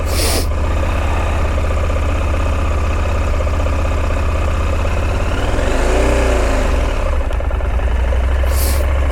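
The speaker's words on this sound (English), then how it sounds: "Now both cylinders are running." A 2023 KTM 890 Adventure twin-cylinder motorcycle engine idles low and rough continuously at close range, rumbling throughout, with a brief hiss near the end.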